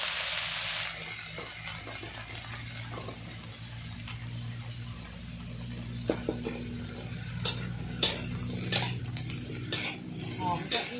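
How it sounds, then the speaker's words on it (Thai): Lotus stems are stir-fried over high heat in a pan, with metal utensil scrapes and clinks growing more frequent toward the end over a low background hum. "เดี๋ยวเราเอาสายบัวใส่ลงไปค่ะ จะผัดหมดนะ"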